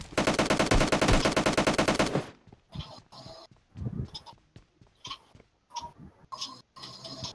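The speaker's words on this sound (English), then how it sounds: "he's shooting at someone, and I don't see where." Rapid automatic gunfire in a battle-royale shooter game, a loud sustained burst for about two seconds, followed by scattered, more distant shots and game sounds in short bursts.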